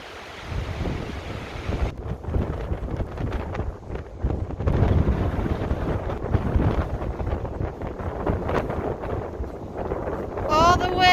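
Strong gusting wind on a mountain trail of the Continental Divide Trail near Chama, roaring and buffeting across the microphone at high level throughout, briefly easing then surging again.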